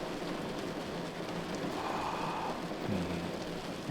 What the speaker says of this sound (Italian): con questo rilassante suono della pioggia che batte sul tetto del van